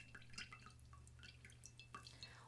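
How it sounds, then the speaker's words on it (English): Excess water drips from a squeezed moss ball planter, or kokedama, in a quiet room, falling as faint, scattered drops in an uneven patter with no voices. "we're going to squeeze out any excess water"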